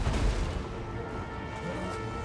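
Hell Cannon artillery fire in the Total War: Warhammer battle game, a heavy low boom that opens loud and then trails off into a rumbling, cluttered battle din.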